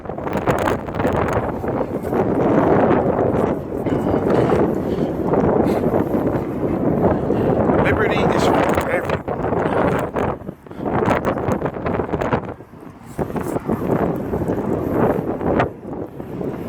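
Heavy wind buffeting the microphone in continuous rumbling gusts, with a voice speaking briefly underneath.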